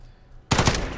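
A short, loud burst from an FAL rifle fired from the hip in Modern Warfare, a few rapid shots that begin abruptly after a moment of near silence.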